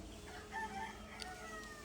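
Faint high cheeping from a group of native chicks of breeds such as Kappiri, naked neck, spotted and grey, over quiet background hum.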